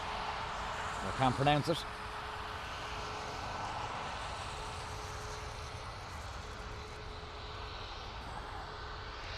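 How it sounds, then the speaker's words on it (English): A Ryanair airliner takes off from Dublin Airport, a steady distant jet roar with a faint constant tone. A short burst of speech comes near the start. "So this Ryanair is off to, I don't know where it's off to"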